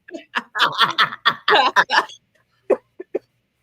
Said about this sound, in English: I'm sorry, I'm coughing, y'all.